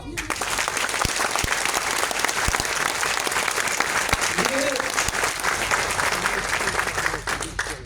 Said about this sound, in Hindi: तो एक बार तालियां बजा के दिखाओ।